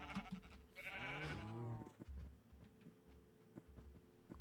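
Minecraft sheep give a single wavering bleat early on, faint and a little distant, followed by quieter ambient game noise with no talking.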